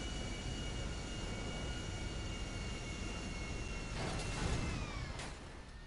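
Airplane engine drone from GTA 5 Online gameplay, a steady loud hum with a brief rushing burst near the end.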